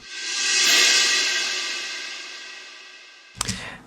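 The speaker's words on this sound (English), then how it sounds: "if I combine both the reverse cymbal effect and the orchestral crash." A reverse cymbal swells up and slowly fades, then cuts into a sudden orchestral crash hit at the end; no voices.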